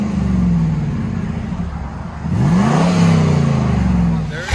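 Chevy Camaro Z/28 with a 5.7L V8 and Magnaflow exhaust, idling with a steady low rumble, then blipped into one clear rev that rises and settles, loud and close with no speech over it.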